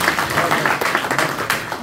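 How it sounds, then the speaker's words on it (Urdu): Audience applause for religious scholars at a speech event in Bradford, a short burst of crowd clapping, moderately loud and continuous. "تمام علماء کے لیے تالیاں ہونی چاہیے"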